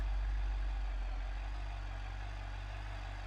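A damaged car engine in the BeamNG.Drive driving game runs in a steady, heavy low drone, close and continuous, with no talk over it.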